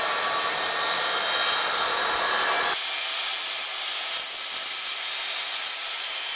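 A hand saw rasps steadily through a narrow strip of wood stock clamped to sawhorses, loud and close for the first few seconds, then the strokes stop and only a quieter hiss of room noise remains.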